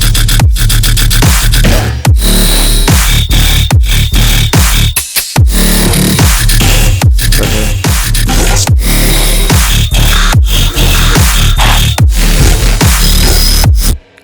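EDM drop with saw synth chords hitting on every downbeat over heavy, pumping kick drums, loud and dense with rhythmic gaps, no voices.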